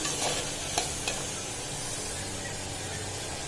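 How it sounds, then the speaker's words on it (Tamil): Ingredients for thanni salna sautéing in a hot pan, a steady close sizzle and hiss with faint stirring scrapes throughout and no voices. "லைட்டாக ஸ்மாஷ் ஆகிற வரைக்கும் கொஞ்சம் லைட்டாக வதக்குங்க"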